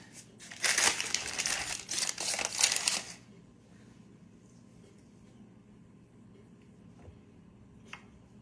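Paper crinkles and crumples loudly in bursts for about three seconds in a home kitchen while a sweet potato cake is being made, then only quiet room noise and a couple of faint clicks remain.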